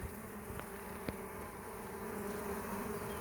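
A steady, dense hum of many honeybees buzzing close together in a hive, low and continuous, with an occasional louder bee passing by.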